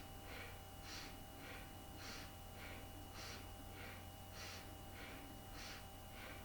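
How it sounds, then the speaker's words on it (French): Forceful belly breathing from a Kundalini yoga session: a steady train of sharp, breathy exhales as the belly pulls in, roughly two per second, close and even, with faint background hum and no speech. "expirer en rentrant le ventre."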